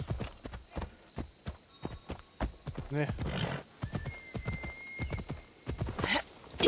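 Horse hooves clip-clop in a rhythmic gallop in Assassin's Creed Odyssey, with a neigh partway through, under someone talking over the game.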